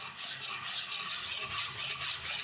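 Hand file rasping over the outside surfaces of forged steel dividers, a close, steady run of rhythmic push strokes with a gritty scraping texture and no talk.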